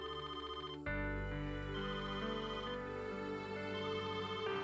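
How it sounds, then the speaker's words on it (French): A telephone ringtone plays loudly on its own as a steady melodic ring, starting after a brief softer lead-in and continuing without pause. "tu peux répondre au téléphone"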